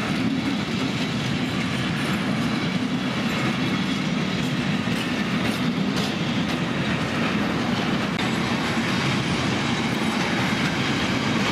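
An EVB train passes steadily on the Soltau–Lüneburg line near Soltau, giving a loud, continuous rumble with rhythmic clickety-clack from the wheels, heard close and alone for the whole stretch.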